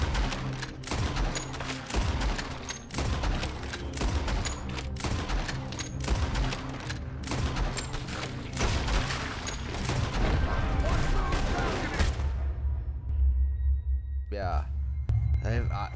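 Rapid, dense bursts of gunfire from a Red Dead Redemption shootout crackle almost continuously for about twelve seconds, loud and close, before fading to a low rumble with a brief last shot.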